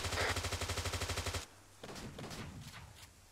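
Rapid automatic gunfire from a Halo game in a 17thODST training match, with a loud sustained burst of evenly spaced shots that cuts off abruptly, followed by quieter scattered shots and game noise.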